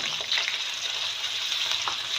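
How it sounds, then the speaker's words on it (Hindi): Sliced onions fry in hot cooking oil in a kadai, giving a close, steady sizzle with a few brighter bursts of spatter and light stirring, heard alone without any voice. "ऑयल गर्म हो गया तो अब इसमें मैं ये प्याज डाल लूँगी"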